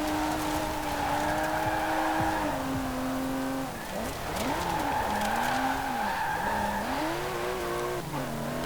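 A rear-wheel-drive car in Forza Horizon 4 slides through corners with a steady tire squeal that bends in pitch, under a constant engine drone.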